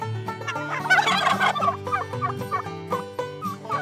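A male turkey on a farm gobbles in a loud, rapid, warbling burst close by, followed by a few shorter throaty calls.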